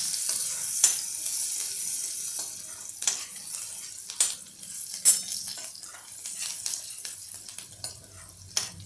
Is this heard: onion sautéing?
yes